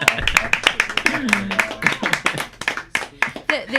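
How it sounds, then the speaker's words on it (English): Scattered clapping from an audience at a show taping, a handful of sharp claps rather than full applause, mixed with voices talking and laughing over it. "Let's give him a round of applause."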